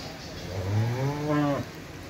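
A cow lets out one long, drawn moo at a livestock exhibition in Bangladesh, close and clear, rising and then fading, over a quiet background murmur.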